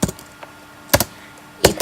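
Computer keyboard keys tapped in short bursts of a few clicks each, with brief pauses between them, while code is typed for a Bukkit plugin; close and fairly crisp, no talking.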